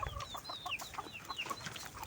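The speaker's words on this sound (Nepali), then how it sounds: "कति धेरै कुखुरा आउनु" Chickens clucking and chirping close by in a steady, busy run of short calls, with a rooster-like tone among them, moderately loud against a low background rumble.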